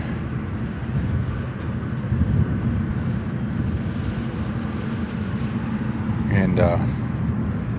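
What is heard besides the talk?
cargo airplane taxiing at O'Hare airport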